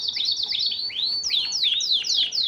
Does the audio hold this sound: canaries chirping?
yes